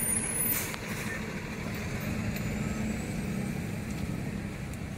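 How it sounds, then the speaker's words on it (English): A rum truck drives past on a road, a steady loud engine rumble and tyre roar close by, with a brief hiss near the start and no voices. "It's a rum truck."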